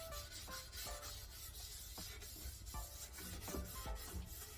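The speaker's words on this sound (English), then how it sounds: "I like to apply it with a little bit of an abrasive sponge" An abrasive sponge rubs finish onto wood in quick, repeated scrubbing strokes, soft and faint but close, with no talking.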